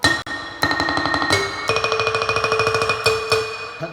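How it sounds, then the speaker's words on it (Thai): A pong lang sample played on a Yamaha PSR-SX keyboard with a tremolo roll, fast repeated wooden mallet-like notes running in a steady rattle, loud and close, with no speech. "เสียงโปรงลางเสียงโปรงลางก็มีเสียงรัวครับ"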